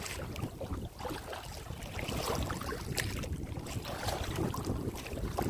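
A kayak is paddled on open water along the Intracoastal Waterway, with soft irregular splashes and water swishing under steady, gusty wind buffeting the microphone, and no voices.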